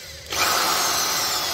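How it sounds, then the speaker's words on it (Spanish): Electric drill wired in series with a washing machine motor whirs up suddenly after a brief quiet moment, then holds a steady, fairly loud high-pitched whine. "El taladro está conectado en serie con el motor."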